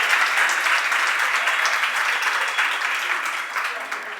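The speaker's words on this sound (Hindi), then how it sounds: "कैमरे में ताली की आवाज जाती है" Women in an audience at a religious discourse in Delhi clapping together, a dense, loud, continuous wash of applause that holds steady and eases slightly at the end, with no one speaking over it.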